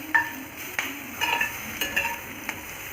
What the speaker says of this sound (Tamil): அதையும் சேர்த்து வதக்கிக்கோங்க.